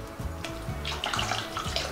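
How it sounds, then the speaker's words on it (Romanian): Water runs and splashes over a fine sieve as it is rinsed after straining hemp milk for a Moldovan hemp dish, a steady close tap-like flow with no talk. "spălăm sita"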